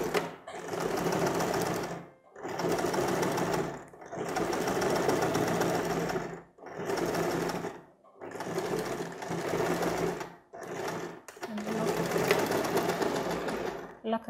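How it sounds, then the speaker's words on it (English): A sewing machine runs in repeated bursts of lock stitching along a seam, each run several seconds long and separated by brief pauses, close and steady. "And then I start stitching."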